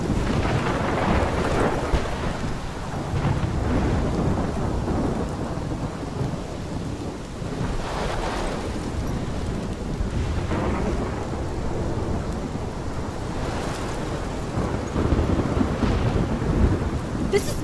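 Thunderstorm with steady heavy rain in the video game Life is Strange, rumbling thunder rolling through several times over a continuous dense downpour, no voices.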